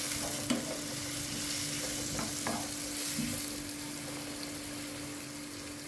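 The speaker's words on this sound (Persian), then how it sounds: "خب اینو هم میزنیم یه مقدار که به اندازه 1-2 دقیقه که سرخ شد آبشو اضافه میکنیم" Onions sizzle in oil in a pan as they are stirred and sautéed for chicken vavishka, a steady close frying hiss broken by a few soft spatula scrapes and clicks, with no talk.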